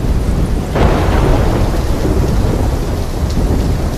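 Heavy thunderstorm in Call of Duty: Black Ops III, with steady loud rain and a deep thunder rumble rolling in and sustained throughout, no voices.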